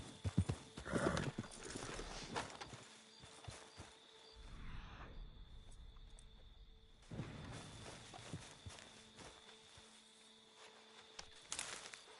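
Horse hooves clip-clop in Red Dead Redemption 2 as the mare sets off at a gallop, close rhythmic hoofbeats with a whinny and shifting background, mostly free of talk.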